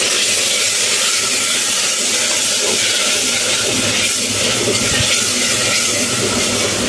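Masala of cumin, garam masala and roasted ground cumin sizzles in a pan after water is poured in, giving a steady, loud broadband hiss that lasts throughout with no voices.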